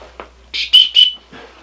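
A small plastic whistle built into the sternum strap of an Osprey Stratos 24 or Manta 24 backpack gives two short shrill blasts, close and loud, with faint handling noise around them.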